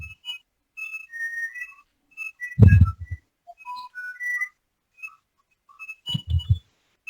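Someone whistles a loose, wandering tune in short phrases, fairly quiet, with a few low thumps in between.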